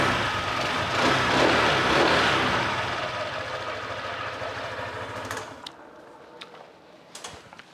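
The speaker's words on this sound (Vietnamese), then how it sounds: "Động cơ ESP cộng nó quá êm," Honda SH scooter with an eSP engine running, a steady broadband engine sound that is loud at first, fades gradually, and ends with a few faint clicks near the close.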